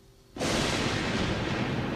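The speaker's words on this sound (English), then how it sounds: "Then when the thunder booms, we stop." A sudden deep boom erupts after a quiet moment and rolls on as a loud, sustained rumble.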